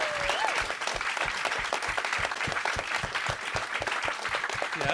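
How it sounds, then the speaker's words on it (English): Warm audience applause at a film screening event welcoming a guitar-shop proprietor: sustained crowd clapping, fairly close and even, with individual hand claps standing out in the mix and no voices over it. "Let's first give some warm applause for Rick Kelly, the proprietor of CARMINE St"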